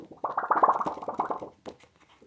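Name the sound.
Razer Sphex V2 Mini mouse pad being handled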